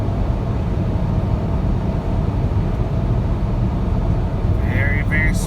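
A 2008 Saab 9-3 in sport mode cruising on a freeway, giving a steady broadband road and engine rumble with wind noise from inside the cabin, plus a few faint chirps near the end.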